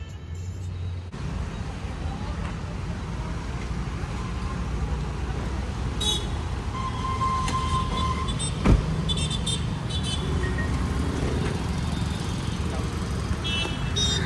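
Car stuck in road traffic in India, a steady low rumble of idling engines and passing vehicles heard from inside, with faint distant horns and a brief sharp click midway, continuous throughout.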